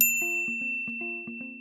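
A bright notification bell dings repeatedly in a quick, evenly spaced pattern, clean and close with a sustained tonal ring and no other sound.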